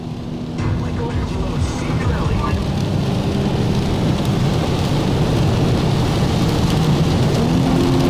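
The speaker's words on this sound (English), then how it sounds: "100 miles an hour rain." Heavy rain roars steadily with a low rumble beneath, like a downpour drumming on a moving four-cylinder car, continuous and loud throughout.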